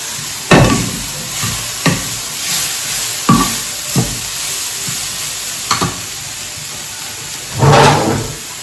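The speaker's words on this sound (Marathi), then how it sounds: "परतून घ्यायचं आपल्याला तेल काहीच नाही बघू शकता तुम्ही बटाटा काहीच तेल नाही आहे" Potatoes dry-sautéed in a pan with no oil over low heat, soft sizzling under repeated scraping stirs and knocks of a spatula against the pan, close and fairly loud, without talk.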